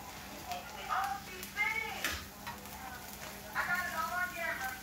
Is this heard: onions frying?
yes